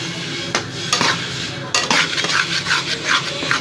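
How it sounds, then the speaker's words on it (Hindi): Moong dal roasting in ghee on medium flame, with a spoon scraping and clinking against the pan in quick repeated strokes over a close, continuous sizzle. "जूं जूं ये भूनती जा रही है ये घी छोड़ती जा रही है।"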